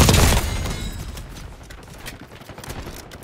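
A frag grenade goes off in the video game Call of Duty: Black Ops 6 as a loud boom right at the start, then fades into a rumbling decay with faint scattered gunfire in the background.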